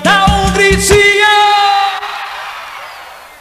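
A crowd of Flamengo football fans at a 1996 event in Nanuque, Minas Gerais lets out a loud, sustained collective shout and whoop of many voices, which fades over the last seconds.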